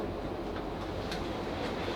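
A South Western Railway Class 458 electric train runs along the track with a steady, close interior rumble and faint rail clatter, no voices.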